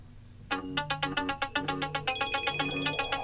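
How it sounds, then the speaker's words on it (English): An Apple Watch Series 3 Nike Plus Edition rings for an incoming phone call, a clear repeating electronic ringtone pattern starting suddenly and continuing steadily, close and alone. "Now you get a phone call, answer it directly from your watch."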